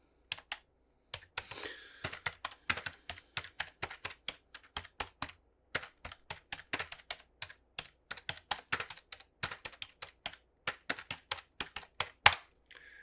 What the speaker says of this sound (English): let's get to that typing test.